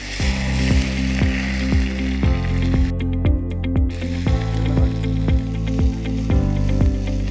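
Mustard seeds, dried red chillies and curry leaves crackle in coconut oil for pepper chicken, with loud steady sizzling broken by repeated rhythmic knocks and clatters, close up.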